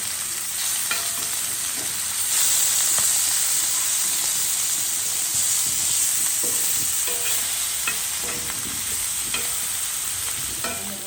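Fish sizzles and fries in a hot pan, a loud, steady crackling hiss with frequent small pops and occasional scraping, close up, with no talking.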